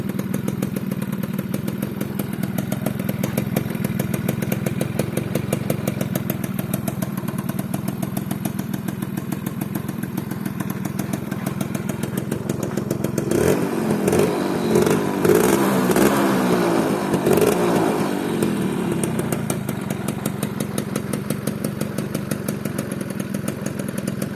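A Honda Crystal motorcycle engine runs steadily after starting, a loud close putter at idle that rises into a few throttle blips midway before settling back to a steady idle.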